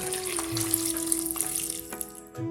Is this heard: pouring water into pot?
yes